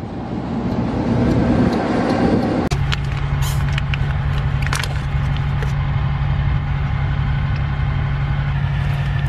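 Humvee military vehicle with an engine fault, a loud steady engine drone and road rumble that holds on without breaks, with a sharp shift in tone early on, no voices.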